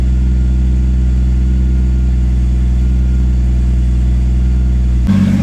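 A stock Toyota Supra MK3 engine holds a steady high idle, loud and close, a constant low drone that shifts briefly near the end.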